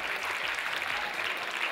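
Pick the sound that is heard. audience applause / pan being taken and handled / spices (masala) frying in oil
audience applause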